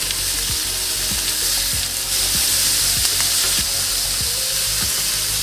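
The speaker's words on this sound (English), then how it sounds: "Now we're gonna flip them to the other side." Tandoori chicken drumsticks sizzle and fry steadily in a pan after being flipped, a dense hiss broken by periodic low knocks and clicks, close and loud.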